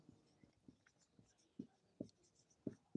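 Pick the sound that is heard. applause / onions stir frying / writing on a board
writing on a board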